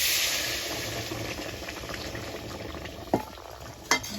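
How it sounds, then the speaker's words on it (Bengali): Hot water poured into a broccoli curry cooking on a gas stove, giving a steady bubbling, sizzling wash with two short sharp clinks near the end. "জলটা দিয়ে দেবো"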